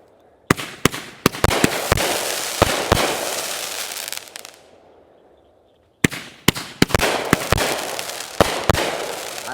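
A big consumer firework assortment goes off outdoors in loud, crackling bursts with sharp cracks. There is a short lull before a second rapid volley follows.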